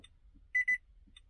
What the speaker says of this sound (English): Alright, so the car beeped for us there.